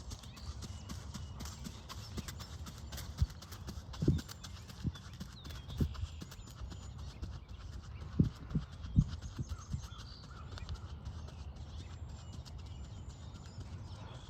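During a riding clinic, a horse's hooves thud softly and irregularly on soft footing at a distance, under steady low ambient noise with occasional faint talk.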